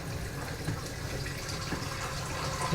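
Tap water runs steadily into a cooking pot in a home kitchen, a continuous close splashing fill with no talking.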